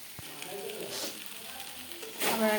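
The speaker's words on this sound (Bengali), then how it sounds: "তো এইভাবেই আমি কষবো।" Taro stolons (kochur loti) are sautéed in an open pan, giving a soft continuous sizzle with light stirring scrapes, close by, with a voice speaking over it.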